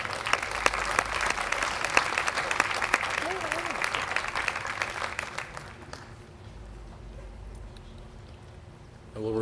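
An audience applauds at a small-business awards ceremony, with dense, steady clapping for about six seconds before it fades to quiet room noise and a voice speaks briefly.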